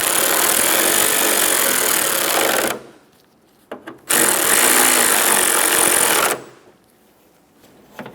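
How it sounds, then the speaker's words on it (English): A power tool tightens the hood lift support bolts on a 2003-2007 Honda Accord in two loud, close bursts of whirring, separated by a brief pause with a couple of small clicks, and a short blip at the end. "Snug the bolts down."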